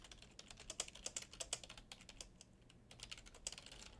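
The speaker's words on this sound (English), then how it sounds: "And just type a little text." Computer keyboard typing while entering text into a SharePoint page editor, a steady run of quick, close key clicks with brief pauses and no speech.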